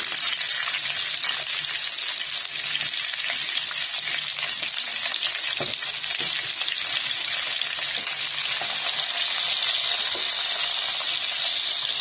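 Raw mangoes and green chillies tipped into a hot pan of oil for pickle, giving a loud continuous sizzle and crackle of frying with some stirring noise throughout.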